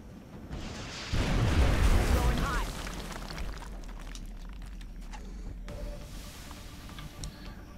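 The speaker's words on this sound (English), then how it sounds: "I shoot rocket there" Rocket fired and exploding in XCOM: Enemy Unknown, a loud broadband burst and rumbling blast that fades into a lingering low roar and crackle, with someone talking over parts of it.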